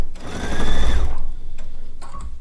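A sewing machine stitches down a seam in a steady whirring burst for about a second, then falls to a softer mechanical ticking with a few light clicks, with no talk over it.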